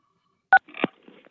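A single sharp phone keypad tone sounds as a caller presses star six to unmute, followed by a few softer, scattered clicks and rustles on the line.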